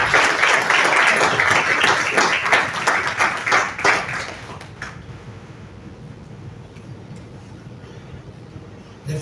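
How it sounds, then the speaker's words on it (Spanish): A church congregation applauding, dense rapid clapping from many hands filling the room for about four seconds before fading into a quieter background hum. "Dale un aplauso a ella."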